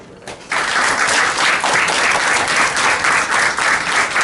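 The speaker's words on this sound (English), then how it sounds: "Let us give a warm applause." Warm applause from a class audience for student presenters in a Chinese business course, a dense, steady wash of many hands clapping that starts abruptly and holds at full strength to the end.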